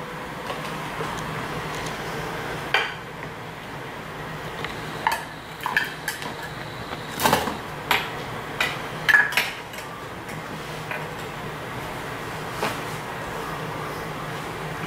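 Pots and pans clattering during pretend cooking play, with scattered metallic clinks and knocks at irregular intervals over a steady background hiss.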